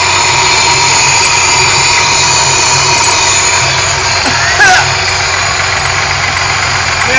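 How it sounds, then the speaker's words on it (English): A supercharged Thunderbird engine runs during break-in, its air filter drawing in air with a steady hiss over a loud, constant mechanical hum and rattle. "You can hear the air filter sucking in."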